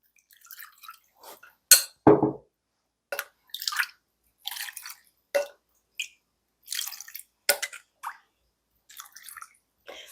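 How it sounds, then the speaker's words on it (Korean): Fish cake hot pot broth is ladled into a hot pot pan in short, wet splashing pours separated by quiet pauses, close and clear with no talking. "그다음 국물 담을게요."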